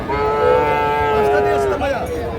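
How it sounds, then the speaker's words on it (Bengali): A young bull calf at a cattle market in Ambari gives one long, loud, close moo that wavers in pitch before tapering off, over a busy background murmur. "আমরা এই পাশে দেখছি ষাঁড় বাচ্চা।"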